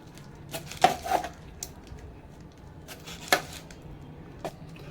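A knife cutting through a block of chemical-free soap base, making a few soft, separate chopping thuds against a board at irregular intervals in a quiet room.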